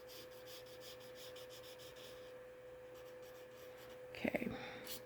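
Chisel-tip marker coloring in orange on paper, giving soft repeated scratchy strokes in a steady rhythm, faint and close, over a quiet electrical hum, with a brief louder rub near the end.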